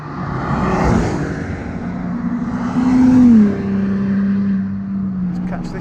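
An Audi A5 3.0 TDI quattro on fresh tyres accelerates hard around Donington Park track, a loud in-car engine note rising and shifting through gears amid road and wind roar.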